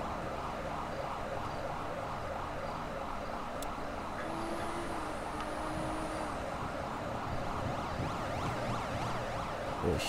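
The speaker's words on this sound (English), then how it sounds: "Oh shit, I'm hearing sirens though." Police sirens wail continuously through a video game scene, rising and falling steadily under a constant layer of car engine and road noise, moderately distant and never fully clear.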